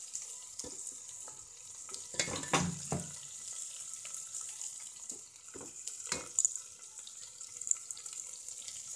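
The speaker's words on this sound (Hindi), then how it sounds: "और अब यहीं पर हम डाल देंगे प्याज, यानी कि प्याज का पेस्ट, अनियन पेस्ट।" Onion paste fries over a full flame in a pot for mutton paya, keeping up a faint steady sizzle with occasional louder clatters and stirring noises and no voices.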